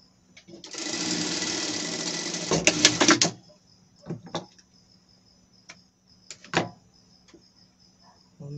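A sewing machine stitches elastic onto a small pet dress: one long, fast run of close, buzzing needle chatter, followed by a few short bursts and clicks as the fabric is adjusted.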